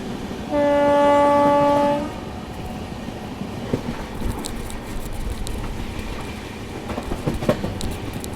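The Alappuzha Dhanbad Express sounds a loud, sustained horn blast for about a second and a half, then rolls on with steady rumbling rail noise and intermittent clicks and clanks of the wheels over the track.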